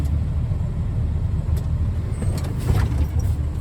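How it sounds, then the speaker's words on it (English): A truck idles with a low rumble, then rolls forward a short way and brakes during a brake test. The engine drone stays steady throughout, and brief hissing bursts come toward the end. "I will put it back, the truck back in drive, and I will go forward a little bit, and I will engage my brakes"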